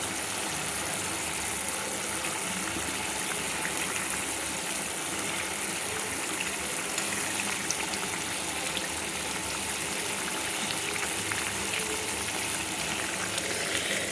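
Fried eggplant pieces going into a simmering prawn gravy for begun chingri, with a steady, close, continuous sizzle and bubble that holds at an even level throughout.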